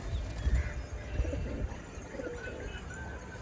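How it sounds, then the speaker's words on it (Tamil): A young pigeon cooing softly at a loft, low murmuring coos repeating under a steady hiss of ambient noise, with faint chirps nearby. "இது ரீசெண்டாக வந்த குட்டி புறா"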